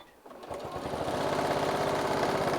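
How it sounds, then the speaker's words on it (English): A sewing machine top stitches with black thread around a green fabric airplane caddy, starting after a brief pause and then running at a steady, rapid mechanical chatter close by. "And now we are going to just top stitch all around."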